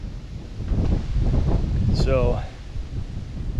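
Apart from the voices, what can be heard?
wind blowing into microphone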